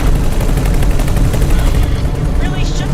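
Rapid turret gunfire in the X4 space game, a dense stream of shots filling the clip at steady loudness with music or effects underneath, fading slightly toward the end.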